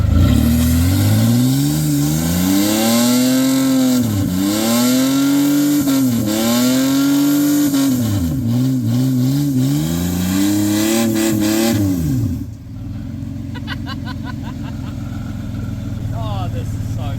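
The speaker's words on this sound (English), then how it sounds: "It was single wheel peeling, wasn't it?" A Holden Commodore VP ute revs hard in repeated rising and falling bursts, its engine loud and close, as a single rear wheel peels; the engine note drops abruptly near the end while voices continue.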